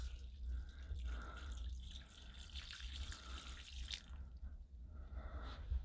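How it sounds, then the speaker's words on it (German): Water poured out of a container outdoors in a garden near potted olive and date palm trees, a fairly faint, steady trickle and splash running throughout without talk. "Wasser ausgeleert."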